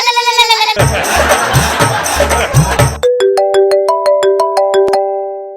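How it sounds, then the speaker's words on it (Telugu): A loud, noisy burst gives way to a phone ringtone on a TV comedy show: a bright electronic melody of short, evenly spaced tones, close and clear. "మళ్ళీ ఫోన్ మీద ఫోన్ చేస్తున్నావు ఏంటి?"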